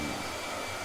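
A hair dryer runs steadily for under a second, a continuous broadband whoosh with no voices over it.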